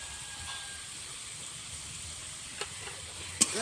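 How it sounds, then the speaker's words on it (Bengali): Spices with salt and ground turmeric fry in a pan for a vegetarian cauliflower curry, giving a steady, soft sizzling hiss with a couple of sharp stirring clicks near the end. "ভালো করে কষে নেব"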